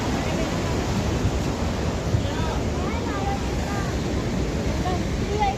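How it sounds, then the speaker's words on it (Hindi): The Saraswati river flowing at Mana village, a broad continuous rush of water filling the background with steady, unbroken roaring noise from start to finish. "देख लीजिए मेरे पीछे सरस्वती नदी"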